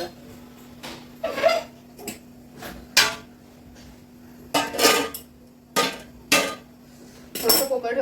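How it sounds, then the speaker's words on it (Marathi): A metal lid set onto a pan of raw banana (plantain) vegetable curry, producing a run of sharp clanks and clinks of pot and cover over a low steady hum, close by with no speech. "छानपैकी भाजीवर आता आपण मस्त असं झाकण ठेवून देऊया"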